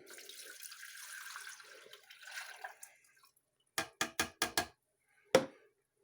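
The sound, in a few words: water poured into a Cocomotion hot cocoa maker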